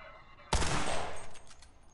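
Sudden burst of rapid gunfire in a video game, a loud sharp volley that starts abruptly and crackles for about a second before trailing off into scattered faint shots.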